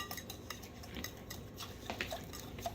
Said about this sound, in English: you're stirring it up in such a way that you make sure the sugar is melted